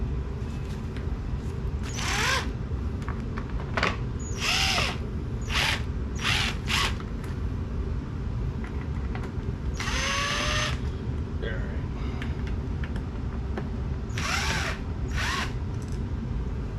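A power drill backs out four Phillips screws from the blower motor housing of a 1997 Mercedes S500 W140, short whirring bursts repeating over steady background noise, with someone talking at times.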